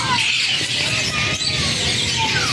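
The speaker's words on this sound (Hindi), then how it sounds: "ये वाला मकाऊ बोल रहा है।" A macaw gives harsh, bright squawks and squeals over a dense, noisy indoor pet-shop background, fairly loud and close, with voices faintly present underneath.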